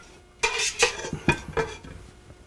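Rigatoni pasta being mixed with pork ragu sauce in a pan, a series of wet, clattering scrapes and knocks of a utensil against the pan, arriving in irregular strokes close up, with no voices.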